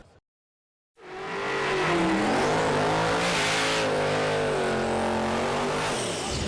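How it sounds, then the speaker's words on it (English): Race cars at a drifting event at Byron accelerate loudly after a brief silence, engines revving and climbing in pitch with tire squeal and a sustained roar close by, no talk. "You got all these race cars here."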